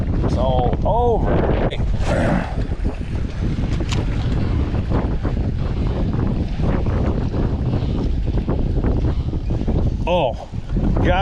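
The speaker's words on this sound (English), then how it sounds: "And then you get a gust like that, and it's all over." A strong gust of wind buffets the microphone while kayak fishing from a Hobie Pro Angler, loud rumbling roars and flutters across the whole stretch, with water lapping and someone talking beneath it.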